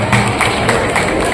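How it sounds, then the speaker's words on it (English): An audience at an award ceremony gives a short burst of applause, dense, evenly sustained clapping filling the room, close and loud, with no talk over it. "Give her a big round of applause."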